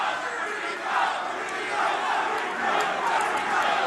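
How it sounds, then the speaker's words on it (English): A crowd at a Yamma Pit Fighting mixed martial arts event in 2008 chants a fighter's name in a steady, rhythmic roar that fills the arena and holds for several seconds. "Crowd starting to chant Rico's name."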